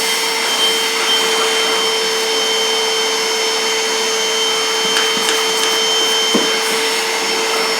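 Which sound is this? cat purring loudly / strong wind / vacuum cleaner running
vacuum cleaner running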